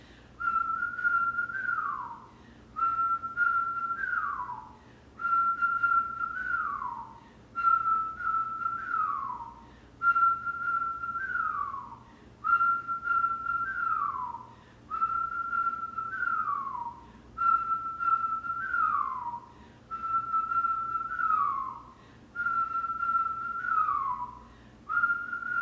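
Steady whistling during a kundalini yoga breathing exercise: about ten repeated phrases, each a held tone sliding downward at the end, separated by short pauses, fairly close and clear with no talking.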